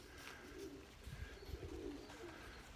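Pigeons coo quietly near a fancy pigeon loft outdoors, low repeated murmurs set against faint ambient noise.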